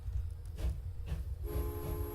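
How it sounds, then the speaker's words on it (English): A train departs in the Transport Fever game, a low rumbling roll overlaid with hissing bursts, then a steady horn-like tone sounds toward the end, with no voices. "And there goes the train."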